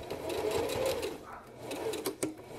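A sewing machine stitches a fly and facing together in a couple of short continuous runs with a brief pause between, ending in a few clicks. Close and moderately quiet, with no speech over it.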